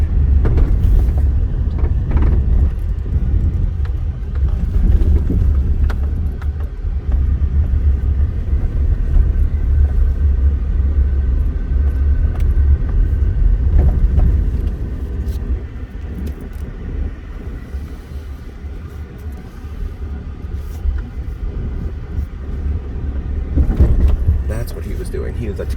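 A car drives along the Las Vegas Strip past the casinos, its low engine and road rumble steady and close throughout. A voice talks over the noise, and the drone eases slightly partway through.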